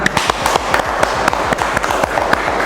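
A class of students claps together in a classroom during an automotive engineering teaching session, a dense run of sharp, close hand claps carrying on steadily throughout with no talk over it.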